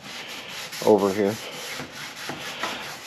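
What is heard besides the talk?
sanding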